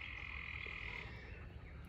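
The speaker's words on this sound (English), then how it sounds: "There's a big bunch of tree frogs over here." A big bunch of tree frogs croaking outdoors, a dense, continuous chorus heard faintly from some distance, with no voices.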